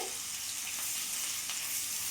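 Crushed garlic cloves fry in a pan with a steady, close hiss of sizzling oil, continuous and even for a couple of seconds with no voices.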